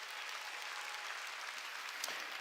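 A church congregation applauds during a worship service, a continuous, even wash of many hands clapping that sounds distant and fairly quiet throughout.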